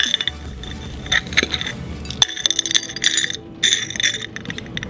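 Small pieces of glass clink and tap together as they are arranged on a plate for fusing, a close series of sharp, bright chinks and scrapes in quick irregular bursts with no talking.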